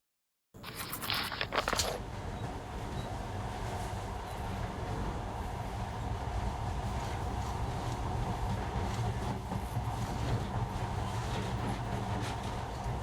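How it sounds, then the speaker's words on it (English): Monorail running in the video game Metro: Last Light Redux, a steady rumbling rolling drone that starts after a brief silence with a short rattling burst, then holds evenly throughout. "But now, this monorail seems magic, doesn't it?"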